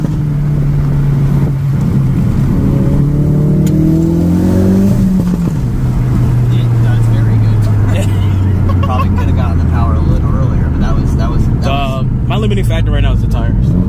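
Turbocharged Ford Focus RS making 375 wheel horsepower revs hard in first gear, its engine note climbing steadily then dropping at a shift and pulling again, loud and close from inside the cabin, with people talking over it.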